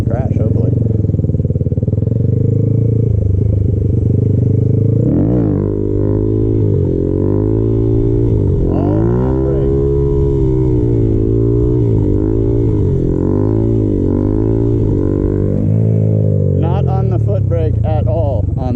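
A Honda Grom motorcycle engine revs hard through repeated wheelie attempts, loud and close with rising and falling throttle sweeps and gear changes, and a rider talks over it at points.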